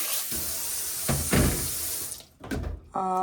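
Green gram (mung beans) being washed under a running kitchen tap, a close splashing rush of water that breaks off briefly and returns, followed by a short tonal clink at the end.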